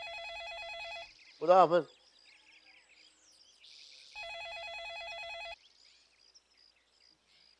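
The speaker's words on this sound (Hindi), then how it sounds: "ओ नालायक, फोन उठाओ।" A telephone rings twice in electronic trilling bursts, close and clear, and a voice speaks briefly between the rings.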